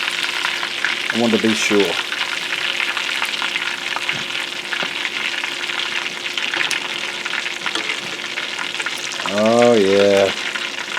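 Southern-style chicken pan frying in hot oil, a steady dense sizzle running throughout at close range, with someone briefly speaking near the start and again near the end over the crackle.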